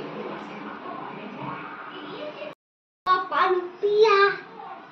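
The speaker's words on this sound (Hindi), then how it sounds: "ये हल्ला गुल्ला शोर शराबा आप पीछे सुन रहे हैं ना, बच्चों का शोर है ये।" Children shout and play in the background of a home during the holidays, a busy murmur of young voices that drops out for a moment before louder, excited calls return.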